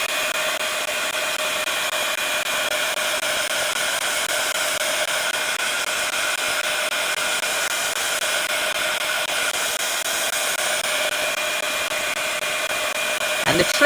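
A craft heat tool drying ink on a card blows with a steady, loud, unbroken whirring hiss throughout, ending with a brief click as it switches off.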